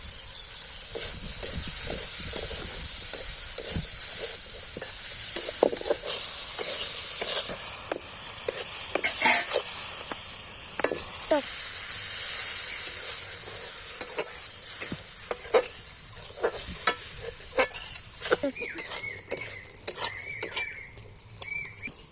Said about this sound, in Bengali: এখানে আমি সমস্ত গুঁড়ো মশলাগুলো দিয়ে দেবো।